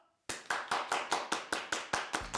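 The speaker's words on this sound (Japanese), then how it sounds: "拍手だ。" About ten sharp, evenly spaced hand claps ring out in a quick steady rhythm at a workplace, close and crisp, starting abruptly after a short quiet moment.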